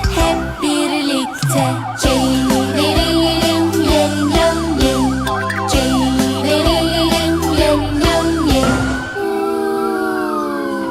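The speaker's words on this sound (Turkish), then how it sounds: "Siren sesi vın vın vın" A police-car siren wails in a steady two-tone pattern over a bright, bouncy children's song with a beat, loud and close throughout.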